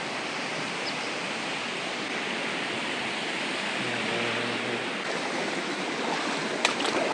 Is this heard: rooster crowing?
no